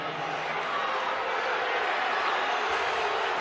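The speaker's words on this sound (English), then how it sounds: "hearing the boos from this Wyoming crowd" A Wyoming home crowd at a San Diego State men's college basketball game roars steadily, a dense, sustained wall of boos and jeers filling the arena without pause.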